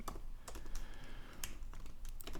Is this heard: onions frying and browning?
no